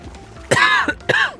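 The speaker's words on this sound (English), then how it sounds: "I knew I was going to cough for a couple of minutes there" A person coughs close into a microphone, two sharp, harsh bursts about half a second apart with a short throat-clearing rasp, loud and near, with no talk.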